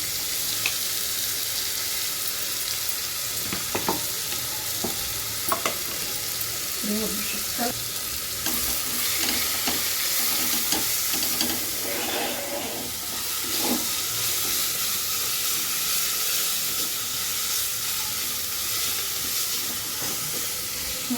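Ground ginger, green chili, garlic and onion sautéing in a pan for chickpea rice, a continuous close sizzle and hiss broken by scraping stir strokes as the mix is turned.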